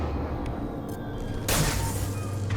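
Explosion in the video game Mass Effect 2 erupts as a sudden loud broadband burst about halfway through, then lingers as a dense, roaring rumble over steady game background noise, with no talking.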